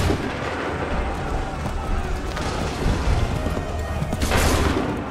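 Musket volley gunfire in the Assassin's Creed III battle at Lexington and Concord, a dense crackling burst of shots over rumbling noise, with a sharper louder volley near the end and voices shouting commands.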